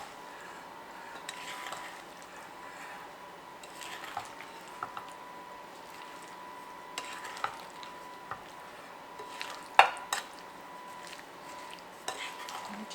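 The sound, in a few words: mixing black currants with sugar for pie filling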